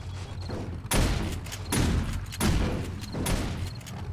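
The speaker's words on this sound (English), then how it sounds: "Well, the shotgun turrets are working." Shotgun turrets firing in the 7 Days to Die video game during a horde night, heavy booming volleys landing in four loud bursts roughly every three-quarters of a second over a constant low rumble.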